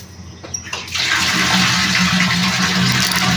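Water from a direct-supply tap gushes out fast after a brief quieter moment, settling into a loud, steady rushing stream close by with no voices.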